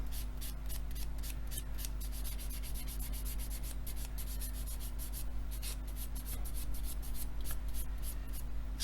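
A coarse blue sanding stick rubs paint off a 1/24 scale Airfix F6F-5 Hellcat model aircraft, giving steady rapid back-and-forth rasping strokes, close and continuous over a low background hum.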